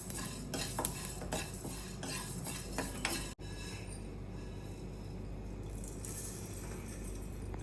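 Coriander seeds roast in a pan while a spoon scrapes and stirs them, giving faint repeated scratches and light clinks, quiet and close with no talk.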